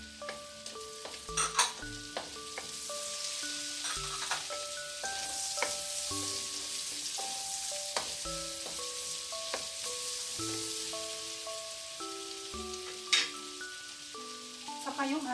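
Steady, fairly quiet sizzle of onion frying in a pan, with occasional stirring clinks and scrapes throughout.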